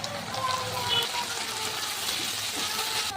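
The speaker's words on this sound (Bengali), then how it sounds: "আদা রসুনটা ভাজা হয়ে গেছে আমার" Ginger garlic paste sizzles steadily in hot oil in a pan, a continuous close crackling hiss with fine sputtering, for a winter cauliflower and flat bean dal.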